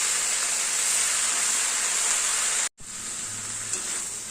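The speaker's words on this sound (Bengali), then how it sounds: "ভালো করে নাড়তে হবে" A curry of hilsa fish head, vegetables and Malabar spinach sizzles loudly in a pan with a steady bright hiss, cut by a brief silent break before the frying noise resumes.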